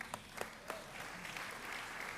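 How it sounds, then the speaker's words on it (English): Quiet, distant audience applause in a hall at a college convocation ceremony, a few sharper claps at first and then a soft, steady patter of many hands. "Yeah, that does deserve applause."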